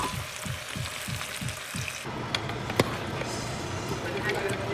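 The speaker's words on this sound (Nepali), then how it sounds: "अझै यहाँ कराहीमा एकछिन पकाउने क्या अलि रातो रातो गरी पकाउनुपर्छ कराहीमा" Meat frying in a karahi wok for a Nepalese meal, a steady close sizzle with stirring scrapes and occasional clinks, starting with a rhythmic scraping pattern before the hiss fills in.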